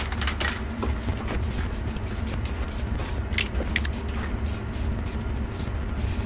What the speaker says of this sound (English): I'm gonna spray it right on this.